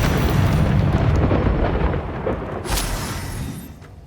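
Casting Flipendo in Hogwarts Legacy brings a loud, rumbling blast that roars at full strength for about two seconds, then gradually fades, with a sharp crack near the end.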